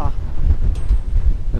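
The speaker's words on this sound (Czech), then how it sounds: "ten vítr snad ještě zesílil" Strong wind buffets the microphone outdoors during roof battening work, a loud rumbling gusty roar that pulses throughout, with a brief voice at the start and end.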